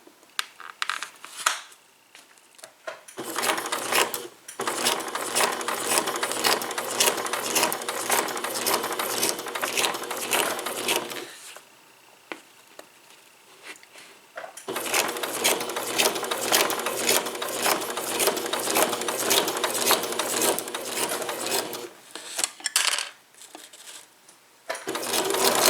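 Sewing machine stitching through paper pages of a devotional journal, running in two long steady bursts of rapid mechanical clatter separated by brief pauses, close and loud with no talking.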